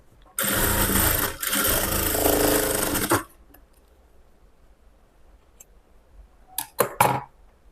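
A sewing machine stitches a lining blouse in one loud, steady three-second run, then falls quiet before a few short stitching bursts near the end.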